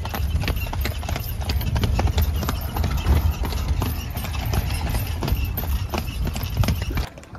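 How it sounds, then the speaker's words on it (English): Horse hooves clip-clop in a fast, steady rhythm near the pyramids in Egypt, mixed with wind and rumbling outdoor noise, loud and close, fading slightly at the very end. "We just parked the horse."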